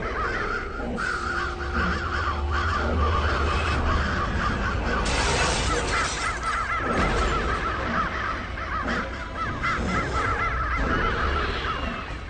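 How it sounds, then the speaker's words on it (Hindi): A large flock of crows caws continuously and loudly, many overlapping harsh calls from birds flying around, forming a dense chorus throughout. "इतना सारा कौवा उड़ रहा है, लेकिन एक भी कौवा खाना ही नहीं खा रहा।"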